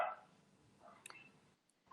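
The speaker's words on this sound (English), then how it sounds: "There's a dog there." A dog barks nearby in a couple of brief, separated yips and barks, fairly quiet, with no talking in between.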